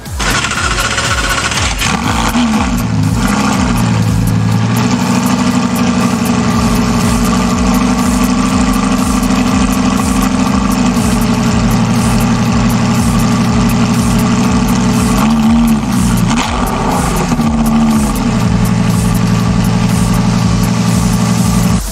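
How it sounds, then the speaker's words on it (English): A Lamborghini Gallardo engine idles loud and close, holding a steady, deep, throbbing note with a couple of brief revs that rise and settle back to idle. "it's a pretty cool sounding engine too"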